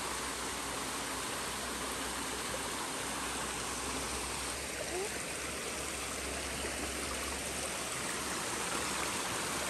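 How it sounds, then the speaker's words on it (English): A small mountain stream flows steadily as a constant broadband wash, close and continuous with no clear pauses, on an outdoor walk near a waterfall. "There's a little stream there."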